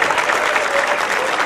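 An audience at a silver jubilee function applauds a veteran harmonium-playing singer, steady, fairly loud clapping from many hands throughout, without talk.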